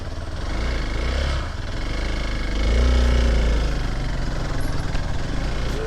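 Off-road car engine in the Katta Para hills running steadily with a low, loud rumble that swells briefly as the vehicle rolls backward in reverse.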